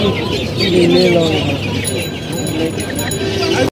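Chickens, including a breed called tiger, and ducks at a busy live-poultry market in Tongi, where clucks and squawks rise close by amid constant chatter of buyers and sellers.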